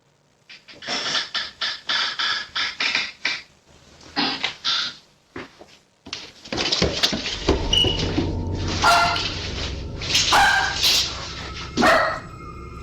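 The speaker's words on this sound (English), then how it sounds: "Her dog seems to notice this, given that he barks when the creaks are heard." A dog barks in a rapid string of sharp, loud woofs, pauses, then barks again in bursts over a busier background of clatter and tones.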